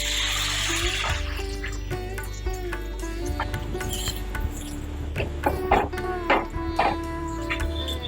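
Water being poured into sizzling spice paste in a pan for a thin Bengali fish curry, with bubbling, splashing and scattered clinks and knocks close by.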